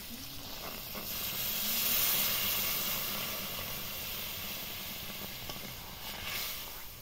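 Water going into a pan of simmering mango chutney brings a loud steady hiss and sizzle that swells and fades gently and continues without pause.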